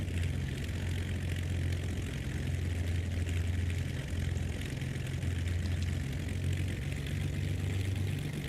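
Steady, loud drone of a Beechcraft Baron 58's twin piston engines and propellers in flight, a continuous rumble with low throbbing tones that gently beat against each other, with no voices.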